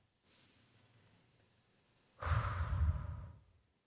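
A slow, deep breath is drawn in through the nose, faint and long, then released in a louder, breathy exhale, close and alone in a quiet room.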